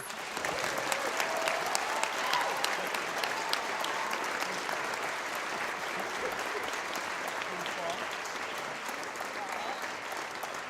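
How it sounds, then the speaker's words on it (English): An audience at a high school spring band concert claps continuously and loudly for several seconds, a thick, even wash of applause that holds steady throughout. "Let's give Dorn a round of applause."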